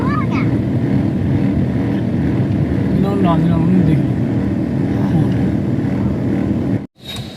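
Heavy road traffic on a hill road to Neelkanth near Rishikesh, a continuous close rumble of engines and wind noise with horn-like tones, heard from inside a moving vehicle with people talking over it.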